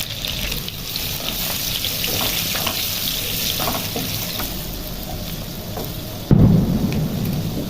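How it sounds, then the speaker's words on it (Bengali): Potatoes fry in hot oil in a pan with a steady, dense sizzle that runs the whole time, close and fairly loud, with a sharper burst of crackling near the end as the food is stirred or shifted; no voices. "আলুগুলো ভেজে নিই ভালো করে।"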